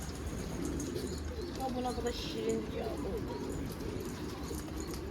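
Racing homing pigeons coo softly in a garden loft, low repeated throaty calls mixed with faint chirps over a steady background hum.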